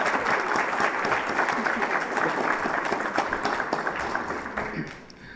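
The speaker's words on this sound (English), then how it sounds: "So a round of applause again for our certificate of completions for our University Consortium." Dense, steady applause from an audience at an annual celebration honouring certificate recipients, a continuous wash of clapping that holds for several seconds and then tapers off at the end.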